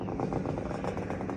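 A Suzuki T500 classic racer motorcycle engine running steadily with a rapid, rhythmic two-stroke pulsing, close and continuous with no pauses.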